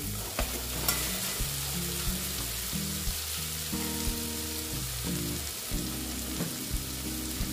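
Potatoes fry in a pan for a soybean and egg curry, giving a steady, moderate sizzle. Regular scraping stir strokes knock through it, and no one speaks.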